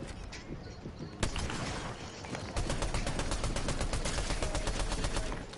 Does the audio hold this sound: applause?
no